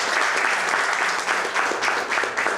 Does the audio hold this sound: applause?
yes